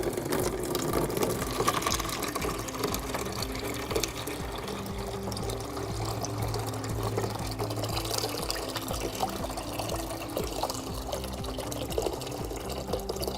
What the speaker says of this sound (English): we're gonna pour out what moisture we have back in the bucket